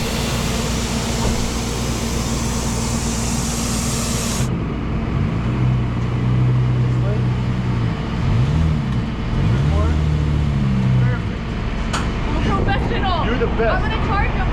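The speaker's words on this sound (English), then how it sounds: "let's get this tow truck pulling up." A tow truck pulls up to a broken-down Lexus GS300, its engine giving a low, steady rumble that swells for several seconds and then fades, over constant background noise.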